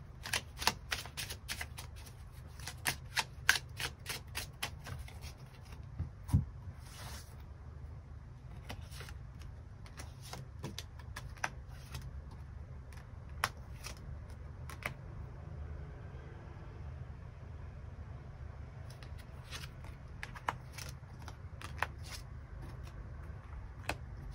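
Tarot cards being shuffled and drawn, a quick burst of crisp card snaps at first, then sparse, scattered flicks and taps against a quiet room background.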